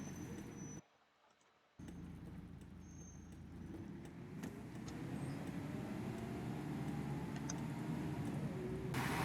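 A Studio Polygon Renown bus in the OMSI 2 simulator rolls along with a low engine drone that briefly drops out, then builds steadily louder with road noise and faint rattles, no voices.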